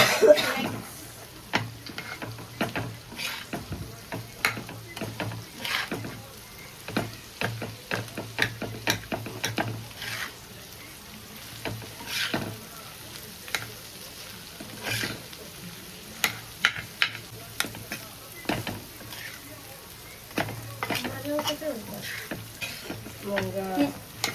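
Spoon scraping and stirring a mashed potato and vegetable mixture in a pan, with steady clinks and soft sizzling over about 25 seconds in a home kitchen, with no talk.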